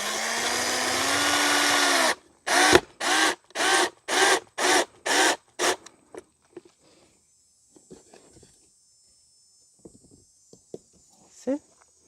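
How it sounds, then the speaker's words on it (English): Power drill driving screws into a wide birdhouse sleeve of upcycled material: a loud steady whir, then a run of about seven short rhythmic bursts, followed by scattered faint clicks and handling noise. "So I'm just going to screw into it."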